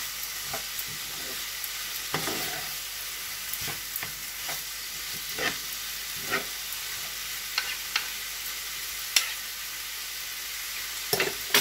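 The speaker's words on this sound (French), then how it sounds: "Je vais mélanger le tout. Vraiment, prenez le temps de bien mélanger." Lamb samosa filling stirred in a pan, a soft continuous sizzle broken by irregular scraping and tapping strokes of the spoon, fairly quiet and close, with no voices.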